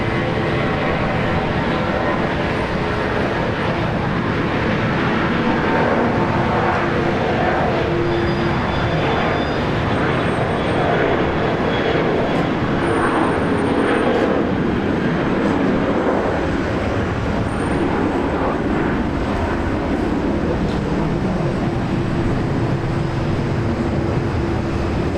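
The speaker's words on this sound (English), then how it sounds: "Jetstar rolling now. Off to Adelaide, Jetstar 800." A Jetstar airliner takes off from Brisbane for Adelaide, heard as a continuous distant engine rumble and broad roar that stays fairly steady throughout, with no voices.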